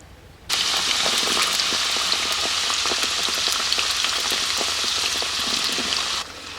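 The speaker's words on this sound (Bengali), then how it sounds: "উনুনে আবার কড়াই বসিয়ে আমি সাদা তেল দিয়ে দিয়েছি এবার ছুলে রেখেছিলাম যে আলুটা ধুয়ে নিয়েছি এবার ভেজে নেবো" Washed, peeled potatoes hit hot white oil in a wok on a stove, setting off a sudden, loud, even crackle of frying that holds steady, then drops away just before the end.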